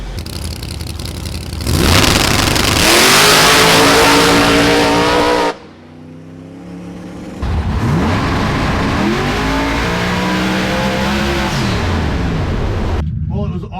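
A Gen 3 Hemi-powered Mustang race car accelerates hard with a loud, steady engine roar. The roar drops off briefly, then climbs again in a second long pull. Voices are heard over the engine.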